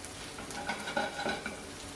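Shallots and garlic sizzling in oil in a pan, a quiet steady crackle with a few soft stirring scrapes close by and no talking.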